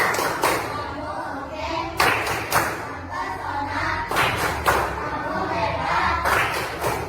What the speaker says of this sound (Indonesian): kalau paham kita kasih tepuk apresiasi dulu